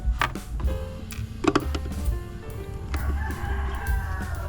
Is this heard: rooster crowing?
yes